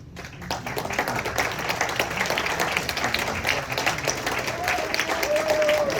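Big, sustained applause from the crowd at a temple gala party celebrating a rabbi's 40th anniversary, dense clapping throughout with a little crowd noise mixed in.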